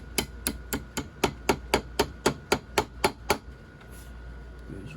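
Roughly a dozen quick, evenly spaced taps from the plastic end of a hammer driving a pin into a Remington 700 rifle being bedded, close and crisp, then stopping.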